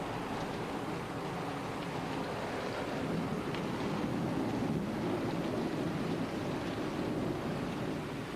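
Steady rain falls with a continuous hiss and a low rumbling undertone, fairly soft and even throughout.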